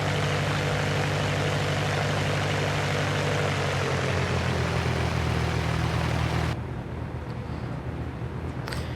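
A Cessna 172 Skyhawk's propeller engine runs loud and steady at the runway before takeoff, droning with a constant tone that holds, shifts slightly in pitch, then drops to a lower, quieter level near the end.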